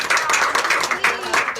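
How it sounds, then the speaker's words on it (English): A round of applause for a woman after a healing demonstration session, hand claps dense and steady throughout, with voices mixed in. "Give her a round of applause"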